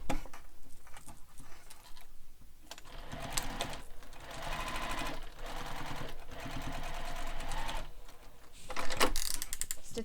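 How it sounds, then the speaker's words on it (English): Close and steady, a sewing machine whirs through top stitching on a bag pocket in long runs with brief pauses and small mechanical clicks between passes. "we're going to stitch 2 rows of stitching here at the top of the pocket piece"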